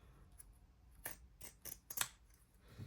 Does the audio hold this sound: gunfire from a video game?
no